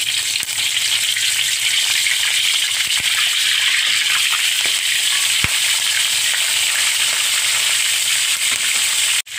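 Pandan leaves fry in hot oil left over from frying pomfret, a loud, close, continuous crackling sizzle that stays steady throughout, then cuts off abruptly at the end.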